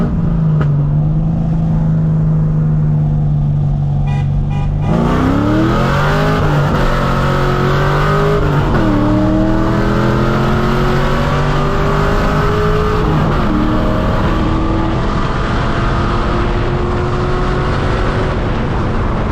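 A loud C5 Corvette Z06 engine roars as the car launches and accelerates hard, rising in pitch through several gear changes.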